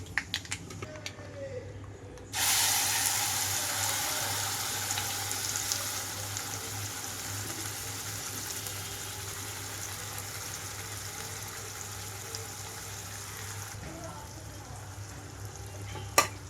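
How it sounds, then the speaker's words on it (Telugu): Ground radish chutney drops into a hot tempering in a pan with a sudden burst of loud, steady sizzling that holds on, slowly easing, then fades near the end. "గ్రైండ్ చేసి పెట్టుకున్న చట్నీ ఇందులోకి వేస్తున్నాము"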